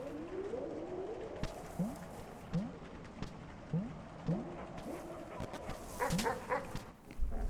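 Dogs bark in the Animal Well video game: short, rising yelps recur every half second or so at moderate volume over quiet ambient game sounds, with a brighter burst of activity near the end.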